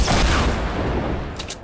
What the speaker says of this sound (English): You're shooting bazookas.